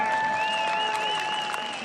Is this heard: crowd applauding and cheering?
yes